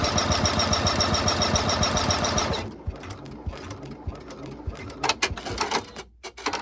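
Sewing machine stitching printed vinyl panels runs steadily for about two and a half seconds, then stops. Quieter handling clatter and small knocks follow.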